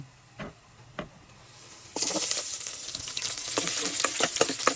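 Garlic added to frying ginger in a pan for a Filipino chicken stew: two soft taps, then a sudden loud burst of sizzling and crackling that continues close and bright.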